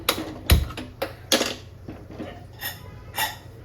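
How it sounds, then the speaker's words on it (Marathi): A kitchen gas stove under a pressure cooker is lit with a few sharp, separate igniter clicks close by, followed by fainter ticks in a quiet room. "मग गॅस पेटवायचा"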